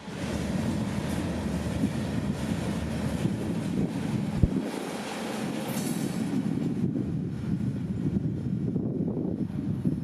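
Freight train G837, hauling grain from Wixom, Michigan off the Lake State Railroad, rolls through downtown Fitzgerald, Georgia in a steady, continuous rumble, with wind buffeting the microphone and one sharp knock partway through.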